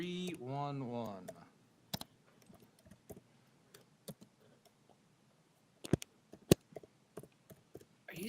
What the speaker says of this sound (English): Are you still typing?